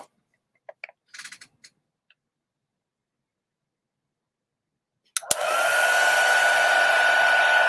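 A heat tool switches on partway through after faint small clicks and handling, then blows hot air in a loud, steady whoosh with a whine that holds to the end.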